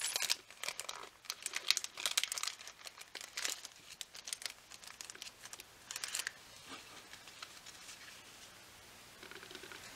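A big bulging bag of paper die cuts from a monthly planner subscription kit crinkles and crackles as it is handled and opened, with close, bursty rustling that thins to quieter scratching toward the end.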